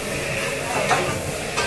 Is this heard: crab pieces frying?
yes